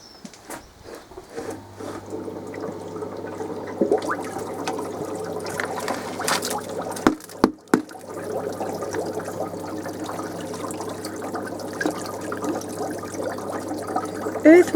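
Water drains from a barrel used to hold earthworms, a steady trickling and gurgling flow that runs the whole time. A couple of sharper knocks come midway, and there are faint noises in the background.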